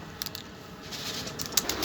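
Pigeons on a high rooftop, soft low cooing with a few quick flutters of wings, faint and close together against a steady outdoor background hiss.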